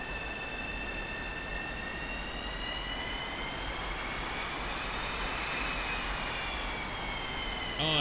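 Boeing 727 jet engines whining steadily while taxiing in X-Plane 11, a sustained high whine over a low rumble, with the pitch drifting slightly as the aircraft rolls past.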